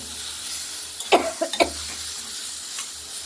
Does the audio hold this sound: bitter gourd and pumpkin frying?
yes